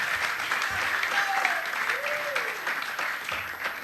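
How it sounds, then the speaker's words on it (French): A studio audience on a TV show applauds in a continuous, moderately loud wash of clapping, with a brief voice or tonal sound gliding faintly through the middle. "Applaudissez pour moi, s'il vous plaît."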